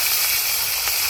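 Fish rubbed with turmeric and salt hits a hot pan in a village kitchen, giving a loud, steady steam-like hiss that fills the moment without a break.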